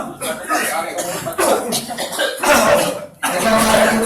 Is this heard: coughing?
yes